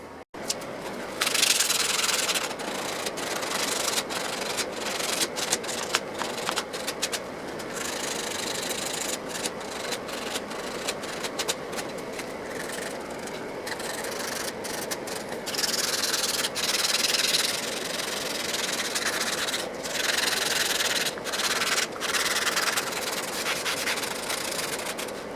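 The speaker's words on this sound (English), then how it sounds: "So now we're just going to sand that up a little bit." Sandpaper rubs over the router-rounded edge of a wooden maker's badge in continuous brisk back-and-forth strokes, close and fairly loud, running without pause throughout, with no talk.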